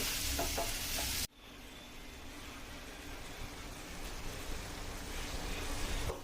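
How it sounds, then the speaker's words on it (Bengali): Ground cumin and Kashmiri chilli powder masala fries in oil over a medium-low flame, a faint, even sizzle that cuts out abruptly after a louder opening, then continues softly with gentle stirring. "এরপরে মিডিয়াম টু লো ফ্লেমে আমি ভালো করে মশলাগুলো কষিয়ে নেব।"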